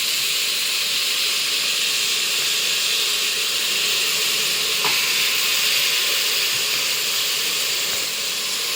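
Goat meat, part of a goat head curry, drops into tomatoes already softened in a pan, and a steady loud hiss and sizzle of frying carries on throughout with no talking.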